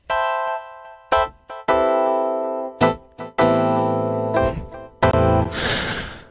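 A synthesizer plays bright plucked chords, each note ringing out and decaying, in an uneven sequence ending with a noisy wash; clear and close, no voices.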